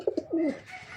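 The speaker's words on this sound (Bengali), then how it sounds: "একজোড়া মাক্সি রেসার কবুতর ফুললি রানিং" A pair of Maxi racer pigeons coo softly at close range, a few short throaty notes followed by a longer rolling coo, with faint background noise.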